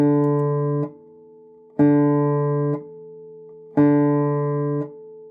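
Fingerstyle guitar, three sustained picked notes in a slow on-off pattern, each ringing for about a second and then stopped by the thumb, leaving short gaps between.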